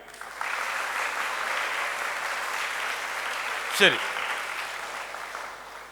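A crowd at a school summer camp closing ceremony claps more energetically, a sustained broad roar of hands at even loudness, with a short spoken word partway through.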